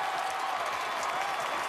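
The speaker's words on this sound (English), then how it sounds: "Crowd on their feet" A packed football stadium crowd roars and cheers continuously at a college game between Texas A&M and Missouri after a touchdown, a dense wash of noise with no pauses.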